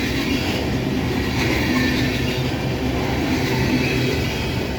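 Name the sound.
CSX ethanol train led by two CN Tier 4 GEVO locomotives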